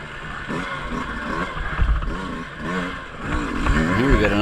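Two-stroke dirt bike ridden on the pipe through tight singletrack woods, its engine revving and bogging continuously with rising and falling pitch sweeps, close and loud, clattering over roots and logs.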